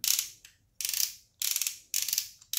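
The knee joint of an Optimus Prime LT02 toy robot clicks into place again and again, producing crisp ratcheting bursts at a regular rhythm of about one every half second, close up and with no speech.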